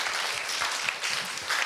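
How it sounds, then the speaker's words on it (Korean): An audience applauding at a university speaking contest in a hall, a dense, steady wash of clapping from many hands, continuous and fairly loud throughout. "힘찬 박수 부탁드립니다"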